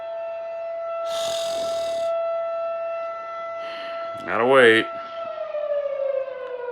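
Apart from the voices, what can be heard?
siren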